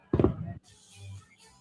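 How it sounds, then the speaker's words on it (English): A single firework bursts loudly at a Fourth of July celebration on the St. Louis Arch grounds, a sharp boom followed by faint crackling and a distant rumble. "long-awaited fireworks show is still going on here at Celebrate St. Louis"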